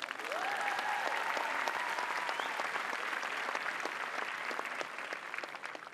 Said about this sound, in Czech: Martin je tady na pódiu, tak mu zatleskejte.